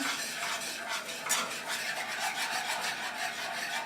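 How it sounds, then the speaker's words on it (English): A chocolate peanut butter pie mixture is whisked in a pan over low heat, giving a steady close scraping, stirring rasp with a light sizzle underneath and no voices. "Kind of whisk it together. You really want to mix it up."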